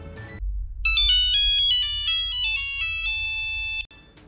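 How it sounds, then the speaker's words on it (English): A bright, tinny Nokia phone ringtone plays a quick melodic phrase of short electronic notes, loud and clear, lasting a few seconds before cutting off. "Nokia ringtone is correct."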